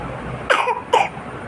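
A young child lying on the floor gives two short, sharp coughs about half a second apart, close and fairly loud against a quiet room.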